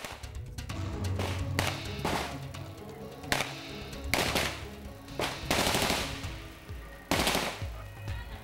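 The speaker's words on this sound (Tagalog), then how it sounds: "sunod-sunod na putukan ng sundalo at ng raiding team" A gunfire exchange between soldiers and a raiding team in Basilan, with repeated sharp shots and short bursts of automatic fire at a middling distance, echoing over a rumbling background.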